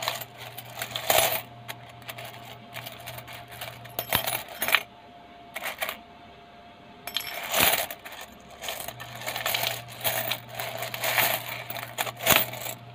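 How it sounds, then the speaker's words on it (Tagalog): Coins in a bowl, among them a 1965 Hong Kong five-cent piece, a 1960 Hong Kong fifty-cent piece and a 2009 Malaysian 5 sen, turned over by hand in repeated bursts of bright metallic clinking and jingling, close up, with quiet pauses between. "Ito mga guys, akin na pinipinaling-paling ang mga coins."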